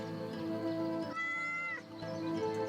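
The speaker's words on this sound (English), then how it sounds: "I love this cat." A cat in the video game Yes, Your Grace lets out a single drawn-out meow in the middle of steady game music.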